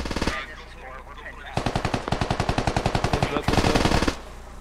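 Rapid automatic gunfire rattles loudly in the military shooter game SquadOps, two sustained bursts of fast, evenly spaced shots after a brief opening volley, close and dominant.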